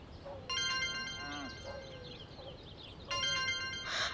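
An electronic phone ringtone plays as an incoming call arrives in a domestic drama scene, with a melodic, repeating chime pattern sounding in two bursts, close and clear. Voices talk faintly beneath it.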